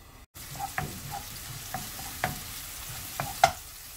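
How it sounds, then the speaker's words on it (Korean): Minced garlic is lightly stir-fried in avocado oil, giving a soft continuous sizzle with several distinct scraping and tapping stir sounds from a utensil in the pan, close and moderately quiet. "마늘을 살짝 볶아주세요."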